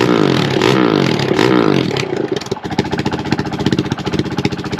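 A Honda CRF450RL motorcycle fitted with an aftermarket full exhaust revs hard and close by. Its throttle blips rise and fall before the engine drops to a choppy, pulsing idle.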